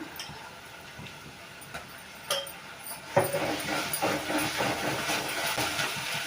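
Ginger and garlic drop into a pan of sautéed onions, and after a quiet start a sudden burst of close, crackling frying hiss breaks out midway and continues steadily.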